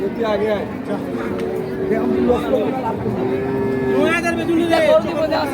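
Sahiwal cattle, a dairy breed suited to farms, low and moo repeatedly at a Monday livestock market in Dinajpur, Bangladesh, with several overlapping calls near and far over a steady murmur of crowd chatter.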